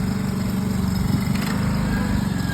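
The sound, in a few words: JLG boom lift engine running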